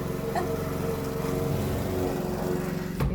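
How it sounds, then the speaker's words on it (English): A lawn mower runs outside at a steady, continuous drone, moderately loud and constant throughout, heard through an open window with no talking over it. "somebody's mowing the lawn"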